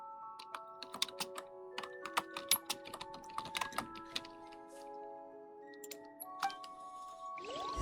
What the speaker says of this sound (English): Man, I've been typing in, like, my friend Discord server.